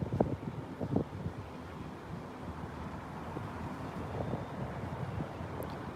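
Gusty wind buffets an outdoor microphone at a Heathrow Airport planespotting spot on a sunny day, producing a steady broadband rumble with low thumps near the start, continuous and fairly loud, with no voices.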